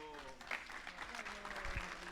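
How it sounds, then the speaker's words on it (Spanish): A congregation gives brief applause, quiet and somewhat distant, with a voice speaking over the clapping. "Un aplauso."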